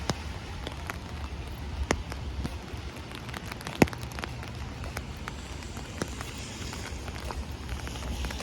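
Rain falls steadily on an umbrella during a street walk in Howard Beach, Lindenwood, Queens, New York City, a constant close hiss with scattered sharp drips and taps, one louder knock midway, and no talking.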